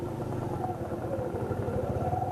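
A motorcycle engine drones steadily throughout, a mid-pitched rumble with slight fluctuations as the bike rides over difficult terrain toward remote mining areas in Congo, close and continuous.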